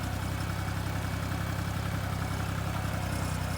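A small tractor engine runs steadily while cultivating between rows of cabbage, a continuous low droning hum with a fine rapid pulse and no talk over it.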